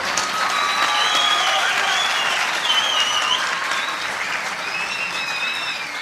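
A large crowd at a Kurdish Yalda night gathering applauding and cheering steadily, with whistles and shouts rising above the clapping throughout.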